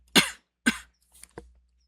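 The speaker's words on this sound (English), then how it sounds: "got a little bit of a cough" Four short coughs from one person indoors, two strong ones followed by two fainter ones, with silence between them.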